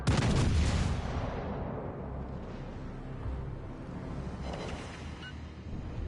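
Ship guns firing in World of Warships Legends, a deep booming salvo at the start rolling into a rumbling wash, with another swell of rumble later, no talk.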